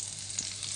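Ginger dropped into hot oil in a kadhai while making Maggi noodles, where leftover water makes it spit and crackle; a steady, fairly quiet sizzle with a soft bright hiss throughout.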